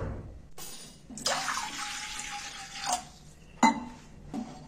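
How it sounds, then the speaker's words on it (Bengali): About half a litre of water is poured into a wok on a gas stove, a splashing gush that swells into a steady stream and ends with metallic clinks, close by. "কড়াতে আমি বেশ খানিকটা হাফ লিটারের মতো জল দিয়ে দিচ্ছি"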